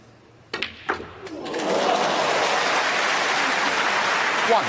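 After a few sharp knocks of snooker balls at the International Championship 2024 final, the crowd breaks into warm, sustained applause that holds steady to the end.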